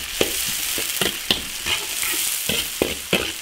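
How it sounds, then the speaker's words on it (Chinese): Garlic, ginger, Sichuan pepper and dried chilies stir-fried in hot oil in an iron wok, with a steady close sizzle broken by sharp, regular scrapes and clanks of the spatula, nothing else over it. "烧油炒调料，大蒜、生姜丝、花椒、干辣椒炒香"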